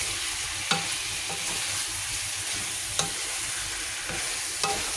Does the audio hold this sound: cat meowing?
no